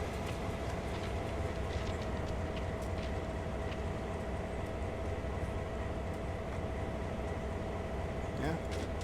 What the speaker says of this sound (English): It's not letting us go because the passenger train coming.